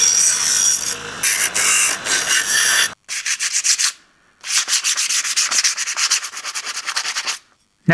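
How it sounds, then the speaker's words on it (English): A small grinder smooths sharp edges on a metal piece, running in loud rasping bursts with a distinct pulsing texture and two short pauses between passes. "Then I come over here and I use my little grinder."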